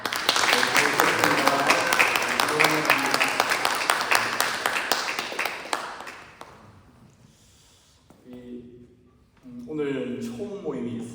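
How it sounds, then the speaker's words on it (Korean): A church congregation at a Sunday worship service claps loudly to welcome visitors for several seconds, then the applause fades and a voice speaks over the quiet room. "먼저 우리 오늘 교회를 방문해 주신 감철우 성도님, 오연아 성도님, 그리고 효인자매 우리 일어나 주시면 박수로 환영하도록 하겠습니다"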